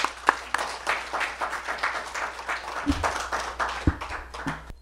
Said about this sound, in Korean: 우리 김창훈 선교사님 모시겠습니다. 박수로.